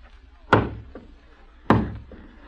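Two heavy knocks land on a door about a second apart, close and sharp against a quiet room in a staged drama.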